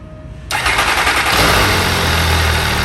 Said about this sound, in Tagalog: once the engine is running